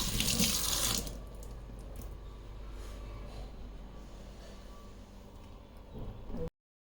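A kitchen tap runs steadily as curry leaves are rinsed under it, a loud burst of splashing water at first that settles into a constant close-up flow, with no talk.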